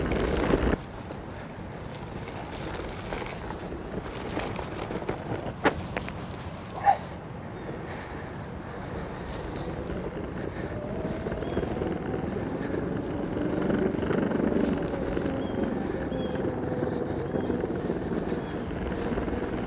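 Beast Board Mini electric skateboard on hub-motor wheels rolls over brick paving, a continuous low rumble that swells midway, mixed with wind buffeting the microphone; nobody speaks.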